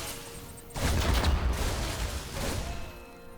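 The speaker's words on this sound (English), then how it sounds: "And you see the grenades keeping on coming down." Reaper grenades going off in the StarCraft II real-time strategy game make a burst of rumbling, crackling explosions. The burst swells suddenly, fades, then flares again more briefly under a low game soundtrack, with no talk over it.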